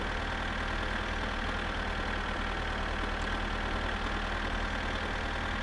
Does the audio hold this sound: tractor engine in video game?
yes